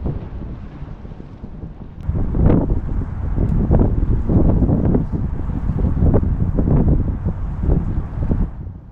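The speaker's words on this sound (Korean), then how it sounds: "어우, 바람" Gusty wind buffets the microphone on the bank of the Han River, a loud, rough roar that swells in uneven bursts and fills the whole stretch.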